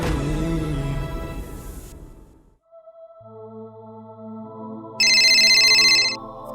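A phone ringtone plays a melodic electronic tune, starting after a fading musical passage, with a bright chiming layer joining near the end.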